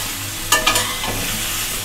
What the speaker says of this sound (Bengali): নেড়ে নেড়ে ফুলকপি আর আলুটাকে ভেজে নেব